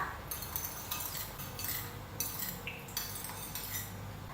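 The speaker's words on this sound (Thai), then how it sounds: "คนให้น้ำตาลทรายละลายดีก่อนเลยค่ะ" A spoon stirs sugar into a dipping sauce for Thai chicken rice, making steady rhythmic scrapes and light clinks against the bowl, close and continuous, with no talking.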